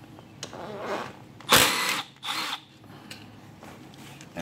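Power tool loosening 8mm bolts on a GY6 scooter engine cover, a few short close bursts of whirring, the loudest in the middle, with a quieter hum between.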